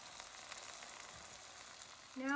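Turon sizzling and frying in a pan, a steady broadband crackle throughout, with a brief louder tonal scrape near the end.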